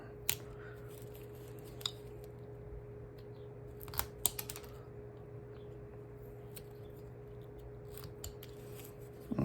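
A knife makes a few short, crisp stop cuts into the wood of a hand-carved bust, quiet and close, with sparse snips against a steady low room hum.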